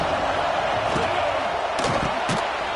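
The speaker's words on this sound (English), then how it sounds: "This crowd full throat, splitting the eardrums and letting him know it's going to be a long day" A Tennessee Vols football stadium crowd roaring in a sustained, dense wall of noise, with a few sharper thuds and bursts rising out of it and voices blended into the din.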